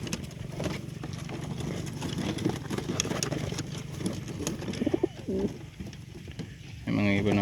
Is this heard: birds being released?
yes